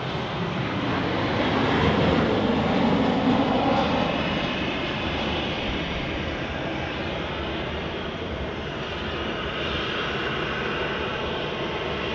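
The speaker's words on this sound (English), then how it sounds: "lovely smooth touchdown there from the Ryanair" A Ryanair airliner touches down at Manchester Airport with a broad, loud engine and rushing roar that swells early on, then settles into a steady rumble as it rolls out.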